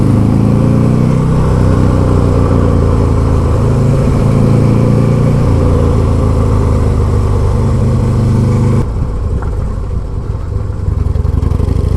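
A Buell XB12 motorcycle engine pulls hard under throttle, a loud, close, deep droning roar that climbs steadily, then drops off as the throttle eases near the end.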